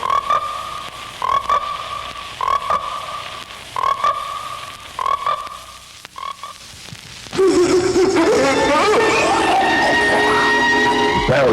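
Frogs croak loudly in a 1970s American International horror film trailer for Frogs, a series of regular rhythmic croaks, then a dense, louder chorus of frog calls swelling near the end with no talk.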